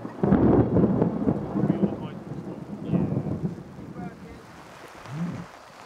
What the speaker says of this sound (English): It's a thunderstorm I'm more worried about.